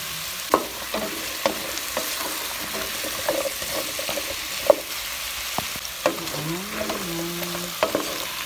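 Squash and tomatoes are stirred in a pot with the sizzle of cooking underneath, and spoon clinks and knocks come at irregular intervals, along with a brief tonal squeak near the end.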